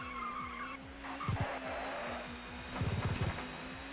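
A touring car in the ToCA Touring Car Championship video game drifts at Oulton Park, its engine droning steadily while tires squeal and skid in two bursts over roughly four seconds.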